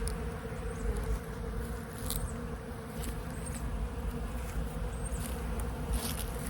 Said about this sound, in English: Got all these bees in here gathering pollen sub, taking it back to their colonies.